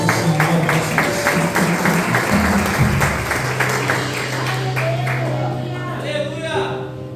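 A church congregation applauds during a Sunday service, a dense sustained clapping that gradually fades, with a voice speaking over the claps and a tone-like hum from the sound system.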